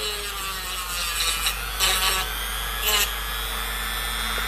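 A rotary tool grinds down the edges of an acrylic lower denture, giving a steady faint whir with three short, louder rasping bursts as the bit bites into the plastic.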